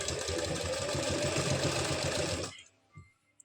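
Electric sewing machine stitching palazzo pant fabric, a steady fast-running mechanical whir with rhythmic needle chatter for about two and a half seconds, then stopping abruptly, followed by a couple of faint handling knocks.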